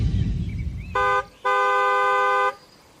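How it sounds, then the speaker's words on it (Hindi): A car horn honks loudly and close by, first a short blast and then a longer held one, breaking through a low background rumble. "तेज हॉर्न की आवाज आई"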